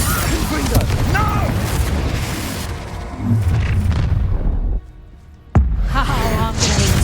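A Confringo spell explosion from the Hogwarts Legacy video game: heavy booming blasts over a dense layer of game effects and voice-like sounds, then a brief lull broken by one sharp, loud crack.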